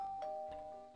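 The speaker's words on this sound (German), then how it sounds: "So, jetzt klingel ich." A doorbell in the Minecraft video game gives a quiet electronic ding-dong chime, a couple of clear tones lasting under a second.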